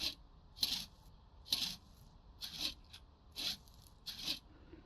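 Sandpaper rubs over a car body in the video game Car Dealer Simulator in six evenly spaced, crisp rasping strokes, close and clear over a quiet background.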